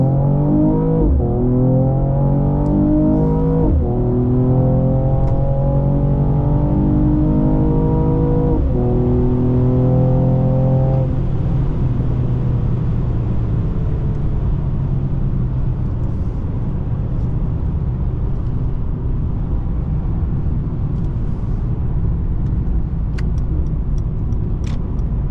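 A 2020 Mercedes-Benz E53 AMG launches from idle at full throttle in Sport Plus, engine loud and close, revving up through several rising gear pulls with clear upshift breaks before settling into a steady high-speed drone.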